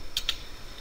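Two quick clicks of keys on a computer keyboard, close and crisp, then silence.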